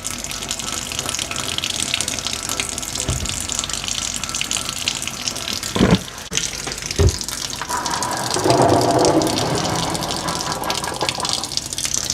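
Cooking liquid from beans pours and splashes steadily out of a pot with a soft rushing flow, broken by a couple of sharp knocks, then a fuller gush of water.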